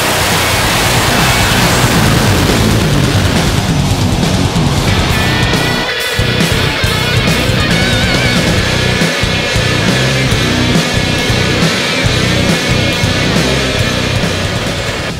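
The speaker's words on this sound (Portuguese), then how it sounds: "um caminhão muito especial, um caminhão que tem um motor a jato" The Hellfire jet-engine truck roars with a loud, continuous broadband blast that holds steady throughout, briefly dipping and surging again partway through.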